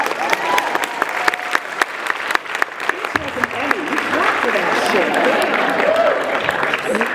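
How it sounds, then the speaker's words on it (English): An audience at a PAX East 2014 gaming-industry panel breaks into loud applause, scattered claps building into sustained crowd clapping with some cheering and voices mixed in. "No, clap for that girl."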